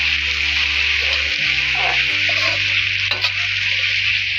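Prawns and butter beans frying in an iron pot for a mamak-style thokku, stirred steadily: a constant loud sizzle with a low hum underneath and a few soft scrapes of the spoon, no voices.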